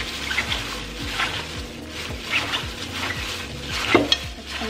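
Noodles are tossed and mixed with seasoning in a small bowl, making a steady wet, squelching stirring sound with soft rhythmic slaps and light clinks of the bowl, close up and without talk.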